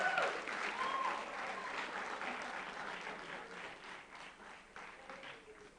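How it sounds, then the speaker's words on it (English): Audience applause for contestants at a National Science and Math Quiz quarter-final in Ghana, a dense steady clapping from a crowd that slowly fades over about six seconds. "Let's clap for the contestants."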